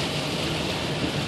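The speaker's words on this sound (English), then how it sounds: "It's pouring rain out here tonight" Heavy night rain pours in a dense, even roar that fills the whole short stretch, with no voices over it.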